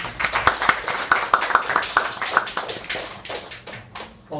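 At a church forum, a small audience claps for a professor: a sparse, uneven run of close, sharp handclaps that thins out toward the end.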